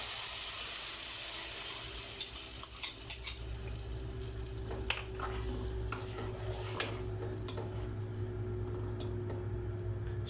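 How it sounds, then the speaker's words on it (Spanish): Tomatoes go into a pan of garlic frying in hot olive oil for pizza sauce, giving a steady soft sizzle with scattered light clinks and stirring scrapes, fairly quiet throughout. "vamos a incorporar nuestros tomates"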